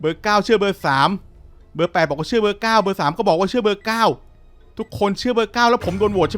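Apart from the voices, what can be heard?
No distinct noise like a dog, phone or traffic.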